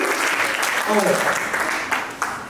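An audience at a church women's conference applauds in a continuous wash of clapping, with a voice briefly audible over the claps.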